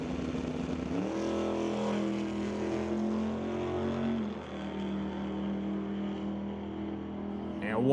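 A 2023 Super B and a Chevrolet Chevy II launch side by side on an eighth-mile drag strip, engines roaring loudly with rising revs through shifts, then fading as the cars pull away, with crowd noise in the background.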